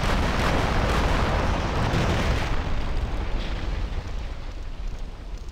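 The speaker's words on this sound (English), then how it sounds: "rocket launcher." A rocket launcher fires in Minecraft with the Rival Rebels mod, a loud, broad explosive roar that fills the opening seconds and then fades into a rumbling, crackling tail.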